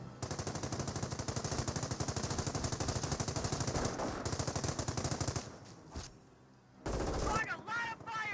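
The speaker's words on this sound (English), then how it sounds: "30 cal now firing, suppressing down the Panzer Grenadiers" A .30 cal machine gun in Company of Heroes rattles out long rapid bursts of closely spaced shots, pausing briefly near the end before another loud burst.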